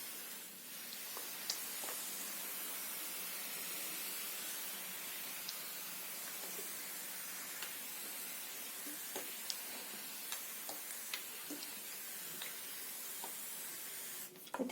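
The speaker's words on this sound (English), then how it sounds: "I'll build up pressure in this nozzle first, and then I'll gently mist it" A pressure sprayer mists lukewarm water over potting mix while repotting African violets, a steady soft hiss running throughout with faint clicks and small noises on top, no voices.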